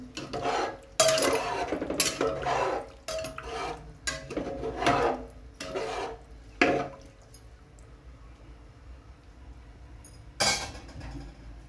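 Spoon stirring rice and about four glasses of water in a pot for masala rice, giving a run of wet clinks and scrapes at a fairly close range, with irregular bursts for the first seven seconds, then quieter, and one more clatter near the end.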